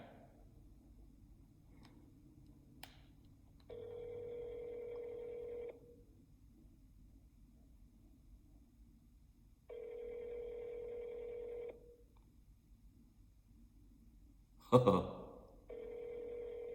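A phone call on speakerphone rings back three times, each a steady two-second tone separated by long pauses, faint and clear against a quiet room, with a brief sharp clatter just before the third ring.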